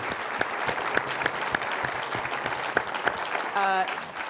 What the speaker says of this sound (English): Let's give these guys another round of applause.